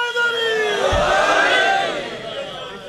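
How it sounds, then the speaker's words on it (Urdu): A crowd at a religious gathering shouts back in answer to a slogan, a loud, brief, unified burst of many voices rising and falling over about two seconds, fairly close. "ہاں ہمیں نعرے کا جواب سارے دیں گے آپ"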